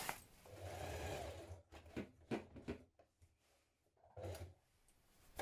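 A home sewing machine stitches a collar onto a coat in short bursts, whirring runs broken by pauses and a few brief clicks, fairly quiet and close.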